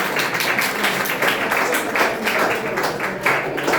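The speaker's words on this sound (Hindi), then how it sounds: "इनके लिए एक जोरदार ताली होना चाहिए।" An audience at a village panchayat student honour ceremony gives steady, dense applause for a student, continuous clapping throughout with a faint murmur of voices beneath.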